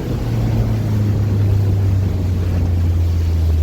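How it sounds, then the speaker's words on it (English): Fishing boat engine running at sea off the Holyhead breakwater, a loud steady low drone with a constant hum throughout, no talking. "Let me just knock this engine on back a bit."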